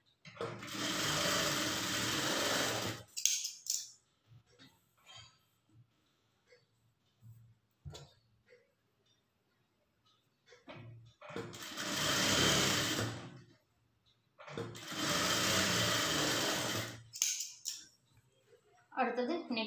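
An electric sewing machine stitching a plain blouse, running in three long loud bursts of rapid whirring stitches separated by quieter pauses with small clicks and handling noises, close up.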